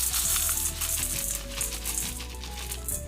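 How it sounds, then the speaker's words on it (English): Birdseed pouring into a bowl, a dense close patter and rattle of small grains that runs continuously for about three seconds with no voices. "I'm gonna add my birdseed."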